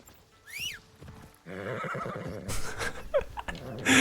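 Horse neighs in Assassin's Creed Shadows on expert difficulty, a bright rising-and-falling whinny early on, followed by busy game ambience with clip-clopping hooves and scattered impacts building louder toward the end.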